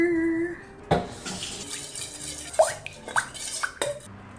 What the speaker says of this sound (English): we're starting with the flax egg because it needs to mix with water